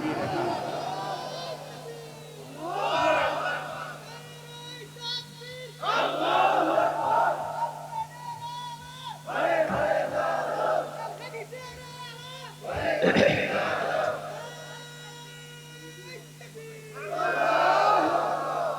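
A large crowd at an Islamic sermon gathering (waz) in Rangpur shouts takbir with raised hands, in several loud swelling chant waves that trade with a single lead voice.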